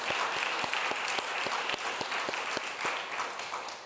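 A ceremony audience at a spring awards event applauds its nominees, with broad, steady clapping, sharp individual claps standing out through the whole stretch, and no voices over it.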